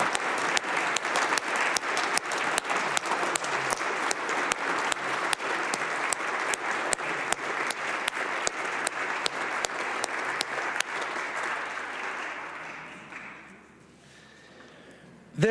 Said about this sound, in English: Members, let's rise and give them a round of applause.